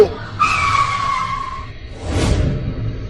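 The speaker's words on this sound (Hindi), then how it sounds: "वो देखो एक गाड़ी आ रही है," A car skids with a sharp tire squeal that fades, followed by a rumbling whoosh as it comes to a stop on a road through a forest, loud and close.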